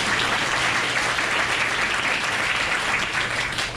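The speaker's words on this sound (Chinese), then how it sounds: "我想是不是大家给他们鼓鼓掌？" Sustained applause from a seated audience in a conference hall at COSCUP 2019, a dense, even clapping that carries on loudly throughout without pause.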